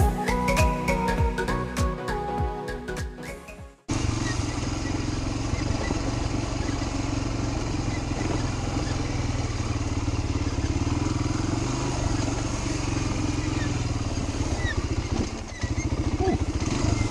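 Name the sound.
Fourtrax 250X quad engine running during ride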